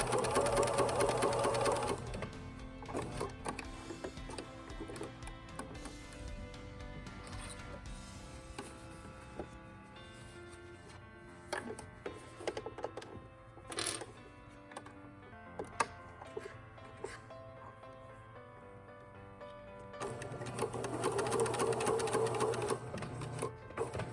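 Sewing machine tacking a cardigan neckband in place, with fast rhythmic stitching bursts at the start and end and quieter stop-start stitching and handling clicks between them, close up and with no voices.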